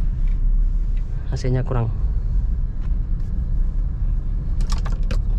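A manual car pulls away gently as the clutch is let up and the throttle eased on during a driving lesson, a steady low engine rumble filling the cabin while someone speaks briefly.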